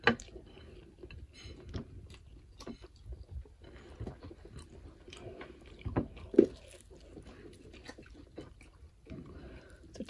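Someone chews biryani made with packet spice mix, oil and ghee, giving soft, wet mouth sounds and occasional bites at close range over about ten seconds, with no talking.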